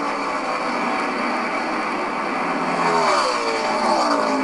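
A Kyle Busch Xfinity Series stock car roars past the finish line on the last lap of the 2016 Kansas Lottery 300, a loud, steady engine drone that builds with a rising pitch sweep as the car passes close by.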